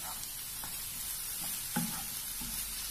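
Half a teaspoon of chili powder being sautéed in a pan for Thalassery chemmeen pidi, a steady close sizzle with occasional soft scraping knocks of the stirring spoon.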